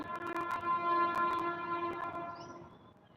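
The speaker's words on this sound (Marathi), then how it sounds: "गाडी आली रेल्वे आली रेल्वे" A train rumbles past with a steady droning tone and sharp clanks throughout, fading slightly toward the end; no voices.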